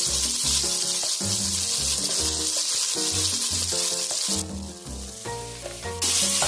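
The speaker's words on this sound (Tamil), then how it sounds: "இப்போ வெங்காயம் சேர்த்துக்கலாம்" Onions sizzle steadily as they fry in hot oil with cinnamon, cloves and cardamom, giving a constant bright hiss that sits under loud background music.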